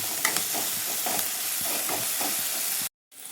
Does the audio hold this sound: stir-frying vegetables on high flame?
yes